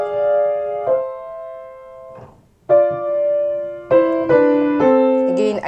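Piano plays quaver notes from Beethoven's Für Elise with the sustain pedal held down throughout, so each note rings into the next and blurs together. A short gap breaks the line before the notes continue, played alone with no talking.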